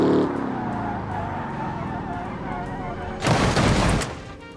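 A Mercedes crashing in the BeamNG driving game, a loud engine and tyre roar building before a sudden harsh burst of crunching impact near the end, close and intense.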